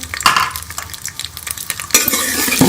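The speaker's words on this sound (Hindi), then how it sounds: "इसके अंदर हम ये प्याज डाल देंगे और इसको ब्राउन कर लेंगे।" Chopped onions browning in ghee in a pan for a potato and capsicum dish, sizzling steadily with scraping stirs and a louder burst of frying near the end.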